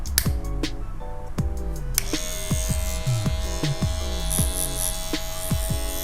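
A Shunmei 818 cordless hair clipper runs close up with a steady electric buzzing hum, interrupted by a series of sharp clicks and knocks at an irregular, fairly regular pace.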